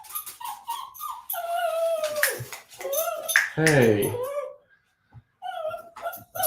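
Dogs whimper, yip and bark eagerly to be let out, a close, busy run of high whines and short barks with a brief quiet gap, while a person speaks briefly.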